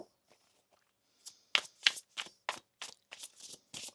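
Tarot cards are shuffled in a quick run of soft riffling flicks and slaps, close and fairly quiet, with no talking over them.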